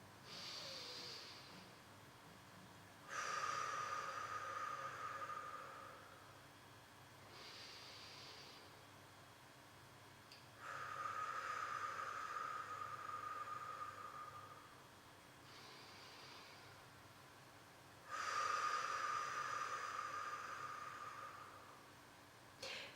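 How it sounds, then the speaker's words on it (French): Slow breathing exercise with long exhalations blown out through the mouth while the belly draws in, three drawn-out breaths separated by quiet pauses, close and fairly soft, with no talking. "Puis on souffle par la bouche encore plus longtemps en rentrant son ventre."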